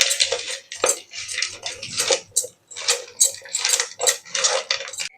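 Sliced bitter gourd is tossed with salt in a bowl, giving close, rhythmic bursts of wet rustling and clatter as the pieces are mixed by hand, with short pauses between strokes and no talk.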